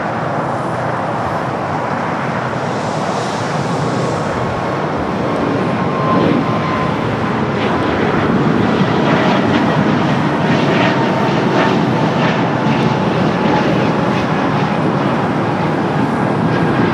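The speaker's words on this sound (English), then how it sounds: "we got a breeze flight heading to Richmond, Virginia. Airbus A220-300 up next." Breeze Airways Airbus A220-300 jet at Los Angeles airport, a steady loud engine rumble and whine that carries on for many seconds, with a thin tone sliding slowly downward as it moves.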